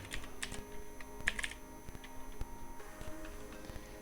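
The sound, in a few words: typing on a computer keyboard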